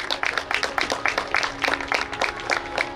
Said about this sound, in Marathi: तर जोरदार टाळ्या येऊ दे